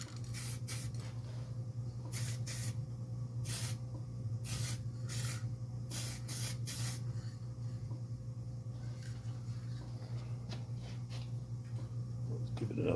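An aerosol can hisses onto a 1937 Pontiac hot rod in about eight short, sharp bursts, close by, over a steady low mechanical hum.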